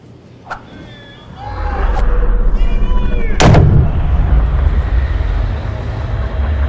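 In the EA Sports PGA Tour golf game, a club strikes a golf ball with a single sharp, loud crack partway through, set against a steady roaring crowd-like ambience with fainter clicks earlier.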